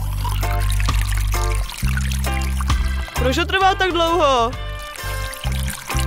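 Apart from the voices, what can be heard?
pouring Fanta from a can with a tap into a glass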